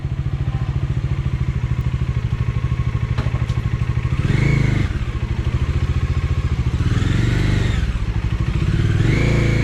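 A motorcycle engine thrums continuously up close, swelling twice as the rider opens the throttle while moving along a hill road to Machal, Ratnagiri.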